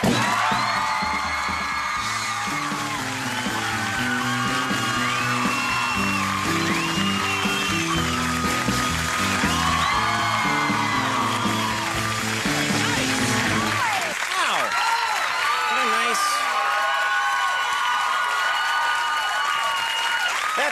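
A late-night talk show studio audience bursts into loud, sustained applause with whoops and cheers welcoming actress Drew Barrymore, a dense crowd roar with music underneath at first that thins slightly in the final seconds.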